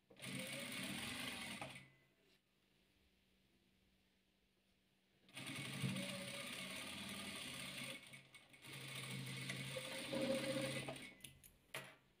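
Sewing machine joining rows of patchwork quilt pieces, whirring in close, steady mechanical runs of a few seconds each, separated by quiet pauses, with a whining ratchety hum during each burst.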